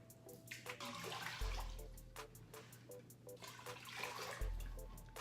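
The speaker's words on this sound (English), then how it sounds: "Now I'm going to add 4 cups of hot water." Hot water pours steadily into a pot of oats being cooked, a continuous splashing stream with a few clinks and knocks of cookware along the way.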